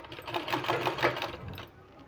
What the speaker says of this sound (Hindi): इसी तरह से बराबर का अंदाज़ा लगाते हुए हमको सिलाई लगाना है।